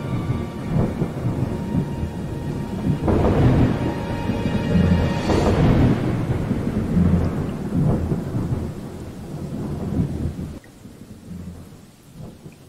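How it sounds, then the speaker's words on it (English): Thunderstorm in the IFSCL video game: rolling thunder swells over about ten seconds atop steady rain, then fades to a quieter rain hiss near the end, with no voices. "Dark and stormy night. All good stories start with a dark and stormy night."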